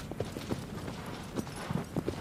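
Horse hooves clip-clopping in the video game Shadow of the Colossus as the horse walks, an uneven rhythm of soft, muffled thuds at moderate distance, heard alone without speech.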